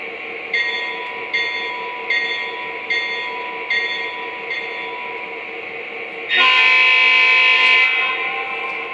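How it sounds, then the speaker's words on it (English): A Lionel Southern Pacific EMD GP30 model locomotive with Legacy control sounds its bell in steady repeated rings, loud and close, then a long sustained air horn blast comes in over the bell. "Alright, let's hear the bell and the horn."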